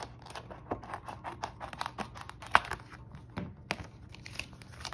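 Scissors cut down the middle of paper envelopes for homemade cash envelopes, a close, quiet series of rapid crisp snips and paper crinkles in a busy, uneven rhythm, without talking.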